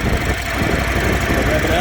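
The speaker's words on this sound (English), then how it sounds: "Fires right up, idle super smooth." Toro Z Master 5000 Series commercial 48-inch zero-turn mower engine idling steadily and close, a constant smooth rumble with no changes in pitch.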